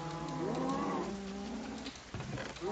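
Cows mooing in Minecraft, several overlapping low, drawn-out bovine calls with a few shorter moos at the end, loud and close with no talking.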